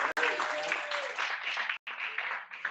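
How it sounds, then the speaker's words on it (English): Audience applause closing a talk in an English course session, a dense steady wash of clapping broken by two brief cutoffs, moderately loud and without speech. "Give applause for the course."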